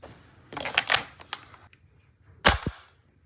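A Krytac Kriss Vector gas blowback airsoft gun fires 0.2 g BBs on green gas, giving a quick cluster of sharp, snappy shots followed by a pause and one louder, crisp shot close by.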